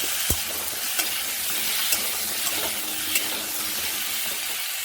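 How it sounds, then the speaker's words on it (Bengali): Cut pointed gourd and potato sizzle in a little oil in a wok, a constant close frying hiss broken by occasional clicks of the stirring spoon against the pan. "এই তেলের মধ্যে দিয়ে দেবো কেটে ধুয়ে রাখা পটল আলু।"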